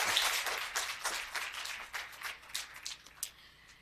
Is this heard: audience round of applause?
yes